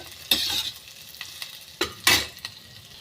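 Food for chilli chicken sizzles softly in a pan over a low gas flame, with several louder bursts of frying as it is stirred and moved around.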